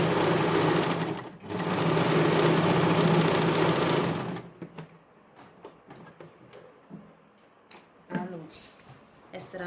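A domestic sewing machine stitches leftover suit cloth into a bag, whirring loudly and steadily for about four seconds and then stopping, after which someone talks over soft handling sounds and light clicks.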